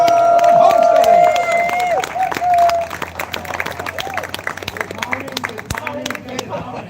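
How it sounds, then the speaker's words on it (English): A crowd at a midAmerican YouTube meetup for goat keepers claps and cheers for Come On Homesteading, loud at first with whoops and a tonal whistle, then thinning into scattered claps and murmured voices. "let's give a big round of applause for Come On Homesteading!"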